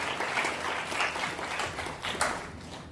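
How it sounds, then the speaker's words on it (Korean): Audience applause at a Korean MRA anniversary ceremony and sponsorship day, a steady wash of clapping from a hall crowd lasting the whole moment, fairly even in level with a few louder bursts. "박수 부탁드립니다."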